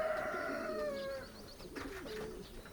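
Nearby racing pigeons at a loft cooing in low, rolling calls, with softer chirps and fluttery sounds following amid a steady outdoor background.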